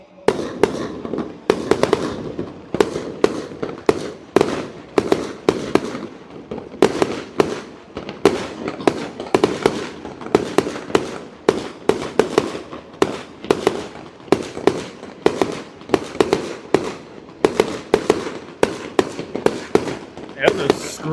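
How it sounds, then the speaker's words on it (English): Screamer fireworks go off in a rapid, relentless barrage at a Friday night display at Coney Island, loud crackling bursts and whistling screeches repeating close together, with crowd voices mixed in. "Those are screamers."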